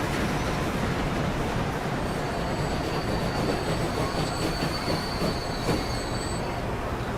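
An Amtrak Metroliner train rolls past in the rail game Transport Fever, a loud continuous rumble of wheels with thin high squeals running through it, steady from start to finish without talk.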